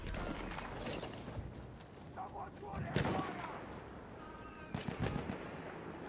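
Gunfire in the Battlefield 1 video game, in a desert rocky area, with scattered shots and distant booms over game ambience and someone talking.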